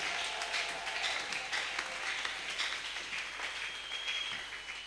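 A church congregation applauding during a Sunday service, a dense, sustained roar of many hands clapping at close range for several seconds, with no talk over it.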